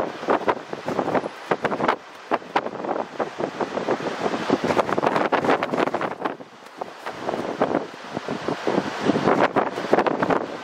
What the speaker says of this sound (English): According to the submitter, the winds were at 50 knots.